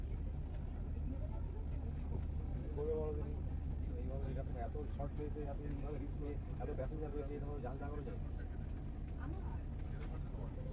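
A cruise launch on the river from Diamond Harbour to Gangasagar runs with a steady low engine drone and a constant water rush, while people talk over it throughout.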